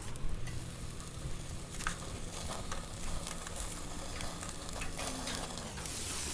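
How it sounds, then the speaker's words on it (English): Chicken adobo sizzling and crackling on a grill flame in a foil-covered pan, a steady close frying hiss with some stirring and clinking. "I'm going to go ahead and throw them on the flame for just a second on the thick side just to crisp it up."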